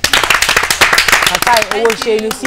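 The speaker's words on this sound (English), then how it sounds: "we have to give him a clap" Several people clap in quick uneven bursts in a studio or gathering, then the clapping thins as a voice speaks over it.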